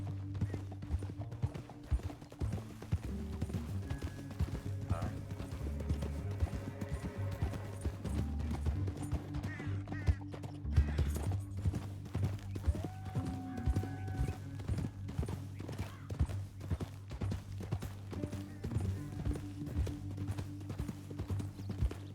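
Horses clip-clop steadily and continuously in the Red Dead Redemption 2 video game, with several riders moving together, hooves layered over a low rumble and a passing whinny, loud and close.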